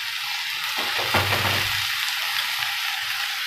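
Chopped chavli (cowpea) greens hit a hot pan and fry with a steady, close sizzle, with a brief louder burst of hissing as the leaves go in.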